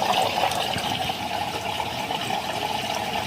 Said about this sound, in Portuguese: Vai dar a descarga, a drenagem, chega a um certo ponto, ele corta e começa a encher novamente